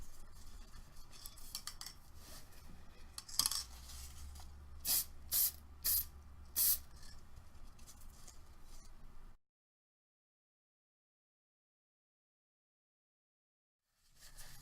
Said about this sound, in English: I'm going to grab an acrylic matte spray finish.